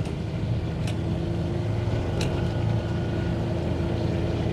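A John Deere Gator XUV 865M diesel utility vehicle with CVT drives along a muddy road, its engine a steady low drone with a constant hum and faint rattles, close and continuous, with no talk.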